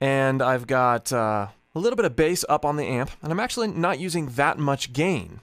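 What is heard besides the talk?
None of the usual background noises is heard.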